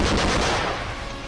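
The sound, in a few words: gunfire from Ukrainian soldiers in Bakhmut war footage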